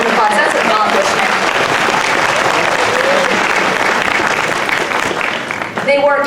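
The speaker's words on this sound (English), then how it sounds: "So if you want to give them a round of applause, that's an accomplishment." Audience applause for the Linden Christmas Chorus after a first-round Christmas choir contest performance, loud and dense throughout with brief voices near the end.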